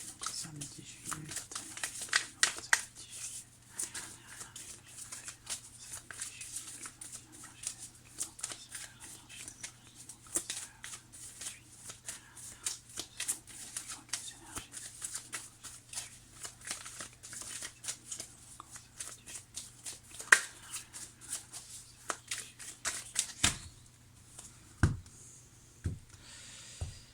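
Tarot cards are shuffled and drawn in a quiet room, giving soft papery flicks and small slides that come and go at low level, with a little talk.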